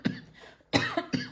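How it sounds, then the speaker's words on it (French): Three dry, short coughs from a person nearby, each a sharp burst with a brief throaty tail, the first followed by a pause before two more close together, with no talk between them. "j'ai une petite toux persistance"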